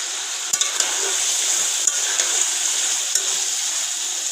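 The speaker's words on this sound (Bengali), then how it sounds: "কিছুক্ষণ নাড়াচাড়া করে সিম আলুটা কষাই নিব" Flat beans and potatoes being stirred and fried in a pan in a home kitchen, a steady bright hiss of frying with a few soft scrapes and knocks from the spoon, fairly loud and unbroken, with no speech.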